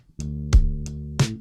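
Clean, unprocessed bass from the Bass Dude plugin plays a few sustained, plucked notes, each with a soft click at the attack, dry and alone in an indie pop bedroom production.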